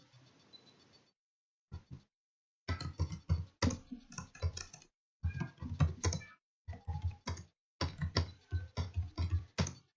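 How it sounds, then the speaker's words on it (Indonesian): Fingers type on a computer keyboard nearby in quick bursts of crisp clicking keystrokes, separated by short silent pauses. "kita ketik"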